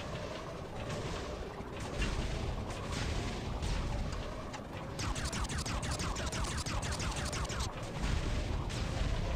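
A gunner turret fires in the Lego Legends of Chima game, a dense, continuous barrage of rapid shots and blasts that stays loud and busy from start to finish.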